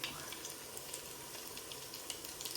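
Carrot pancakes frying in a pan over low heat, a soft, even, continuous sizzle with faint crackles, heard close without any talk.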